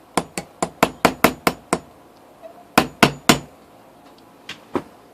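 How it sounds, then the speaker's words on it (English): A small hammer taps a quarter coin in a quick run of sharp, ringing strikes, flattening high spots to make a ring, then pauses and gives a few more spaced taps. "So we used a small hammer."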